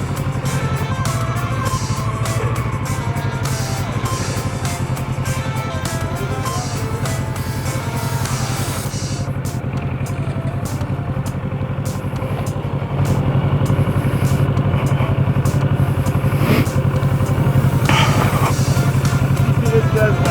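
A motorcycle rumbles at low speed on a licence training course, its engine held at a steady, loud idle-like drone with slight clutch and throttle variation, while an instructor talks over it.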